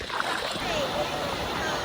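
Someone wades through a chilly, knee-deep creek on a flooded walking track, with continuous sloshing and splashing water close by that runs through the whole stretch.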